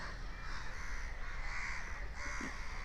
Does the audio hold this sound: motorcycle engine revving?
no